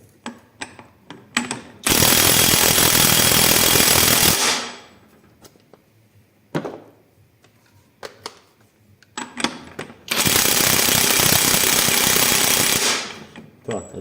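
A MEKIBOR 800 Nm cordless impact wrench fires in two long, loud, rapid hammering bursts of a few seconds each, with quieter handling clicks and some brief talk in the gap between them.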